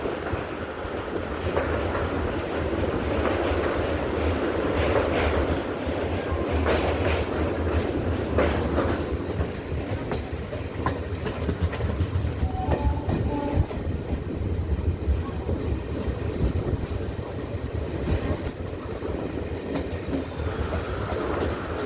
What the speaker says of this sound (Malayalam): ഇത് പുനലൂർ റെയിൽവേ സ്റ്റേഷനിലോട്ട് വണ്ടി കയറുകയാണ്.